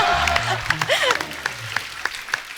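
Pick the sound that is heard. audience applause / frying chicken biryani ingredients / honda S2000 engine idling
audience applause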